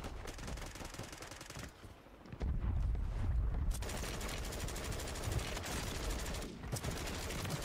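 Bursts of automatic gunfire and single shots from Call of Duty Warzone ranked Resurgence, loud and dense, with a quieter lull around the second mark before sustained heavy firing resumes and continues to the end.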